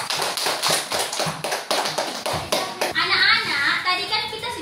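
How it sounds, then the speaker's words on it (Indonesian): Classmates clap for a presentation in an Indonesian school classroom during a teaching practice lesson, a few seconds of brisk, uneven clapping with children's voices mixed in, followed by a brighter sustained patter. "Beri tepuk tangannya dulu."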